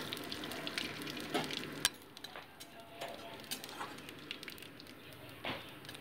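Bay leaf and whole cumin are dropped into hot oil for tempering a duck egg curry and sizzle quietly, giving a soft, crackling hiss broken by sharp pops and ticks.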